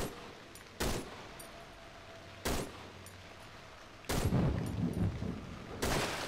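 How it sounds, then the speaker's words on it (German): Four loud pistol shots in the game Cry of Fear, spaced irregularly with pauses between them over quiet background ambience. "Also 5 Schüsse mit der Pistole und das Ding ist tot."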